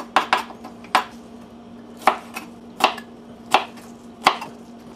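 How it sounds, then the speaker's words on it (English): Knife chopping green onions on a cutting board, sharp close taps in an uneven rhythm, about nine strikes over a few seconds, with a faint steady hum behind. "Now the green onions I won't be adding until the end, but I'll go ahead and cut them up now"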